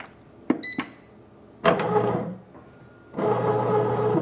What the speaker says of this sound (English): I'm gonna just press start and it is going to mix it up and bake it all in the bread machine